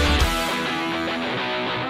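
A punk rock band recording plays loud and dense, with driving distorted guitars and drums filling the whole passage and no talking.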